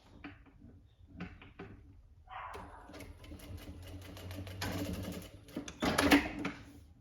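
A sewing machine stitches winter pajamas in short bursts of rapid mechanical clatter, with small handling knocks between runs, growing louder toward the end.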